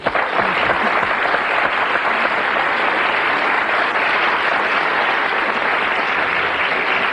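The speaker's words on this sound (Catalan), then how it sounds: "Jo demano per ella un fort aplaudiment" Studio audience on a 1991 Catalan TV talk show gives a guest sustained, dense applause, loud and even from start to finish, with no voices over it.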